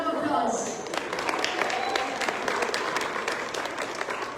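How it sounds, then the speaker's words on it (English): An audience applauds after a song performance at a Dhamma Chakra Pravartan Din event, a sustained wash of clapping with a brief voice over the start. "Let's give them this beautiful big round of applause."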